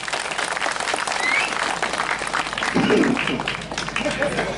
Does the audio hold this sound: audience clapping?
yes